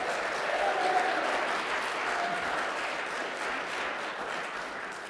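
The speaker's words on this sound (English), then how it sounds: "Give a round of applause." A church congregation at a conference applauds steadily after a vote, giving a sustained, even round of clapping that fades slightly toward the end.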